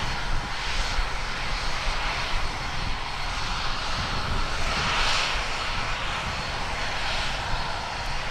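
ATR turboprop airliner engines roar steadily as the plane heads out, a continuous broad drone from moderately close with no talk over it.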